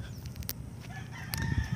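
Roosters crow from a village below a grassy meadow, faint and distant, one drawn-out crow rising over a soft outdoor background.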